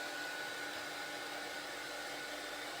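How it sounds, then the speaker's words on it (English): A heat tool blows steadily to dry a handmade three-panel craft card, a continuous airy whoosh with a faint motor whine, close and unbroken throughout with no talking. "give it a really good blast with your heat tool, just to make sure it's all dry"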